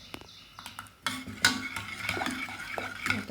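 Cooked urad dal is mashed and churned with a wooden churner (ravi) in a pot for traditional Satara-style ghute, making irregular knocking, scraping clatter that grows busier and louder after the first second.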